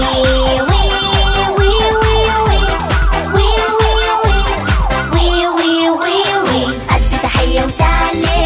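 A loud, continuous fire truck siren wails up and down in rapid repeating sweeps, close and dominating, with a steady rumble underneath.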